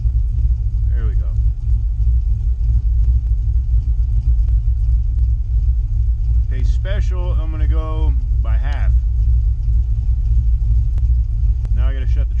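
A red pickup truck's engine idles as a steady low rumble throughout, with someone talking briefly over it at intervals.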